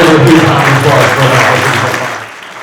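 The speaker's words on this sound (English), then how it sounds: "give her a huge round of applause for" A mentalist's stage show audience gives a huge round of applause for a volunteer, a dense wash of clapping mixed with cheering voices that holds steady, then thins and fades near the end.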